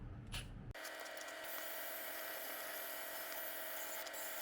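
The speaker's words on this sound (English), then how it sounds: "Just a wire wheel chucked into my drill to knock off the surface rust." A drill spins a wire wheel against rusty metal hay trolley hardware, a harsh, hissing scratchy grind that runs steadily after a short start, close and fairly faint.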